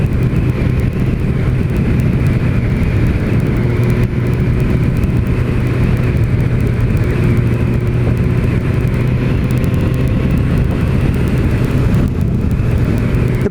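A 2006 Suzuki GSX-R 1000 K6 sport motorcycle ridden at speed, a loud continuous engine roar with heavy wind rush that holds steady throughout.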